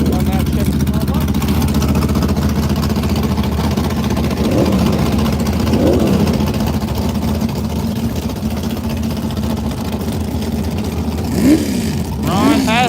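A supercharged small-block drag racing car idles with a lumpy, continuous rumble at a fall drag race, holding steady throughout with a couple of brief revs near the end, while an announcer talks over it.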